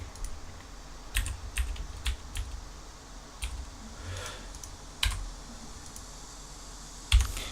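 Computer keyboard keys pressed in short bursts of shortcut combinations, crisp clicks in small clusters with pauses between, fairly close and alone without talk.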